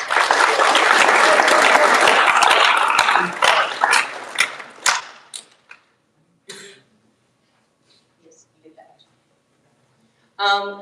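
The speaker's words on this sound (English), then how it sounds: "So a big round of applause for her." Loud, dense applause from the crowd at a high school awards night, fading out after about five seconds into scattered claps, a cough and quiet room noise, with a brief burst of sound near the end.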